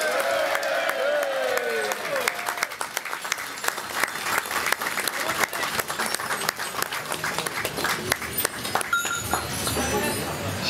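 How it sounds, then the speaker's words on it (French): Applause rolls steadily from a large outdoor crowd at the Binche carnival, a dense rattling clatter of many hands that holds for the whole stretch with a few louder bursts. "Chers supporters, vos applaudissements pour les 60 ans de Charlie Trousseau."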